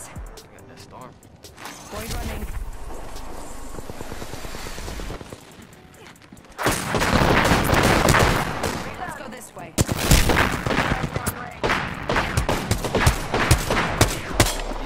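Gunfire rattles in an Apex Legends squad match: sparse shots at first, then loud, rapid bursts at close range, with players talking over the shooting throughout.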